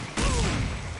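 A single grenade blast in Counter-Strike: Condition Zero, an abrupt loud boom with a brief rumbling tail that fades over a second.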